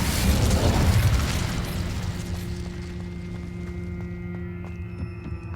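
An Incendio fire spell explodes in the Hogwarts Legacy video game with a loud, rushing burst that fades over a few seconds into a lingering tonal hum.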